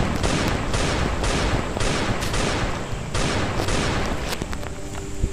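Rapid gunfire sounds from the survival shooter game Last Day on Earth: Survival, in a laboratory level. Loud, dense bursts of automatic shots come in repeated volleys that continue almost without pause, with a few sharper single cracks near the end.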